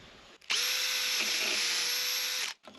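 Power drill boring a hole during building work on an off-grid homestead, a single close burst of steady high motor whine lasting about two seconds, starting and stopping abruptly, no talking.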